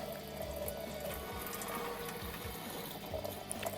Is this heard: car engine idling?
no